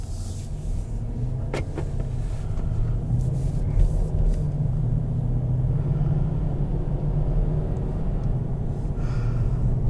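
A 2017 Mercedes-Benz GLS 550 SUV on the move, heard from the cabin as a low, steady road and engine rumble with a few faint clicks, no talking.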